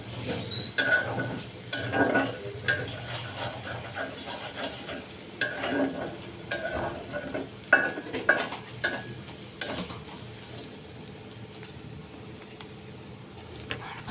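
Food frying in a pan before spices go in makes a low, steady sizzle. Repeated scrapes and clinks of a spatula against the pan come close and at moderate volume, with no talking.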